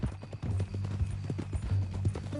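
Horse hooves clip-clopping on the ground in Red Dead Redemption 2, a steady close rhythm of repeated hoof strikes over a low continuous ambient hum, with no talking.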